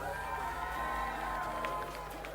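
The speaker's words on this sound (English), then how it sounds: "You can hear the crowd anticipation getting in behind these girls." Spectators at a BMX race final in New Zealand murmur and cheer with anticipation ahead of the girls' final, a continuous crowd din with scattered shouts and a low rumble underneath.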